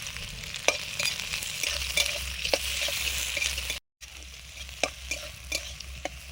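Dried chillies, whole cumin and chopped onion fry in a pan with a steady soft sizzle, and a spoon scrapes and stirs in irregular clacks at a picnic cooking spot, with a brief dropout midway.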